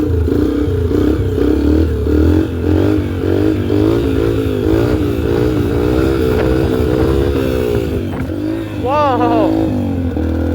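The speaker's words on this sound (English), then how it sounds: "Alright, second gear wheelies," A dirt bike engine revs loudly and continuously while doing second-gear wheelies in a neighborhood, holding a steady droning growl that wavers with throttle, then dips and climbs sharply near the end.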